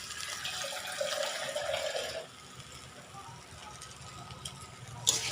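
Water runs from a tap at low level for about two seconds, then stops, leaving a quiet room with faint shuffling and a small clink near the end.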